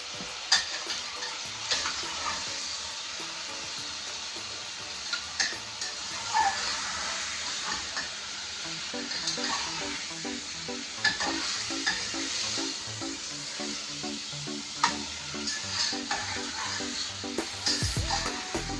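Mutton curry with green chillies stirred in a hot pan, a steady sizzle and fry running throughout with scraping, clattering spoon strokes recurring at close range, no talking.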